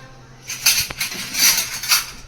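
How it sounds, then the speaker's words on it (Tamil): A large metal ladle knocking against a cooking pot of village-style country chicken curry, a few bright close clinks and scrapes in quick irregular succession. "ஃபர்ஸ்ட் நம்ம கரண்டி எடுக்கணும்"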